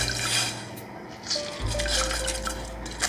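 Orange juice is poured into a pot for cranberry sauce, a soft liquid trickle with light clinks of kitchenware against the pot, close and moderately quiet.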